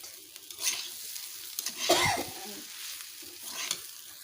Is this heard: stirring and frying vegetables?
yes